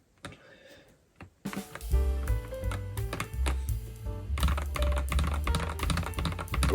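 Typing on a Keychron K8 Pro aluminum-plate keyboard fitted with Gateron Pearly White switches, a close run of quick, uneven keystrokes with soft clacks and deeper thocks, starting sparse and then becoming busy.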